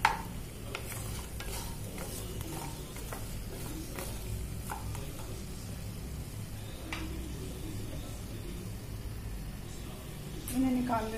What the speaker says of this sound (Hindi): मखाने जो है दोस्त, ये घी सक करने के बाद थोड़े से छोटे हो जाएंगे साइज में।